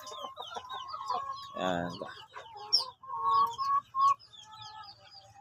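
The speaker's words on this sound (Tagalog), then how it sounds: "Ito yung aming mga breeding area namin. Rhode Island Red ang laman nito." Rhode Island Red chickens in a breeding pen cluck and squawk close by in short, irregular bursts, and a person says a brief word among them.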